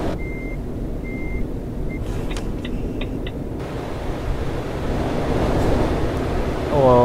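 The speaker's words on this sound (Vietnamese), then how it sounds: "Ôi kẹt xe ghê thế." Traffic jam with trucks on a Vietnam map in Euro Truck Simulator 2: rhythmic reversing beeps over a constant engine drone, which swells toward the end, with no voices.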